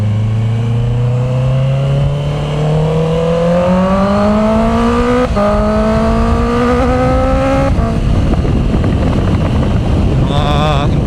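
A Honda CB650R E-Clutch four-cylinder motorcycle on the SLEX expressway, its engine note climbing steadily through gears with brief shift dips, loud and close over wind rush, a short voice near the end.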